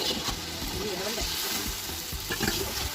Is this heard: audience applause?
no